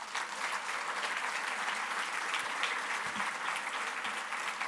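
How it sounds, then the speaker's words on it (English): An audience at an annual meeting claps in a sustained, dense round of applause, steady and fairly loud throughout with no voices standing out. "let's give Larry a big round of applause"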